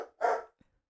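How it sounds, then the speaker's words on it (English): One sharp dog bark, short and moderately close, followed by near silence with a faint tap afterward. "Like they literally only bark after 9 a.m."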